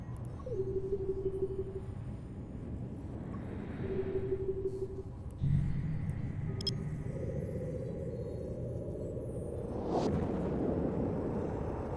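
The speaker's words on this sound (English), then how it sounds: "Warp drive active." A spaceship warp drive engaging in EVE Online: low rumbling hum with tonal beeps, a swelling whoosh midway and a rising surge near the end, fairly faint and with no talk.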